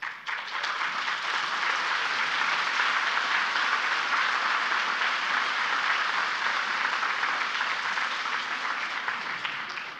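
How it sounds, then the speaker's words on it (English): Sustained applause from a room of women at an awards ambassador speech, steady and dense throughout, fairly loud and close with no voices over it. "So please applaud yourself for that."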